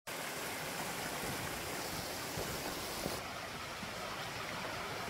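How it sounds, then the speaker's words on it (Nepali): Water from a mountain stream being collected, a steady rushing and splashing flow heard up close, continuous and moderately loud throughout with no voices. "पानी चाहिँ यसरी भर्नुपर्छ"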